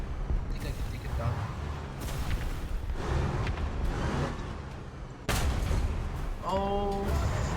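Tank cannon fire in the video game War Thunder: a few sharp, loud booms spaced several seconds apart over rumbling battle noise, with a player talking throughout.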